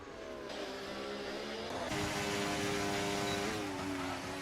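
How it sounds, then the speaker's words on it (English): An F1 race car in the F1 25 video game at Zandvoort revs hard against the rev limiter, a loud buzzing engine drone that bounces slightly in pitch, with no talk. "you can hear it kind of in the rev limiter of the car bouncing off the circuit"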